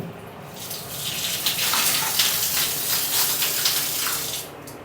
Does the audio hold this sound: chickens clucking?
no